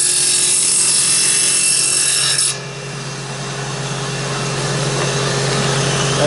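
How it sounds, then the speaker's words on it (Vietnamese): A power drill bores holes into wooden beehive-box parts, giving a loud, steady grinding whir that dips briefly partway through and then carries on, with no talking. "Đây là chú khoan này, đây là khoan lỗ."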